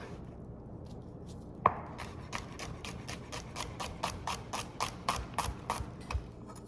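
A knife chops onion on a cutting board in a steady run of quick, crisp taps, close and fairly quiet, with no talking.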